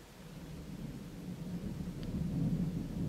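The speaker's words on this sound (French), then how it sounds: "Il y a de l'orage." Thunder rolling during a thunderstorm, a low continuous rumble that slowly swells louder toward the end, heard from indoors with no voices.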